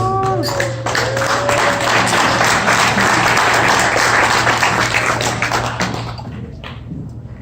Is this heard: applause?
yes